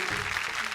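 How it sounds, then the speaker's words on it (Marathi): A short, faint burst of applause from a studio audience on a Marathi TV entertainment show, a soft patter of clapping lasting under a second. "जोरदार टाळ्या होऊन जाऊ देत"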